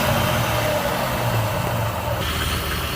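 The engine of a Jeep Grand Cherokee WJ is held at raised revs while Seafoam is sprayed into the intake, giving a steady, close, even mechanical hum with no pauses.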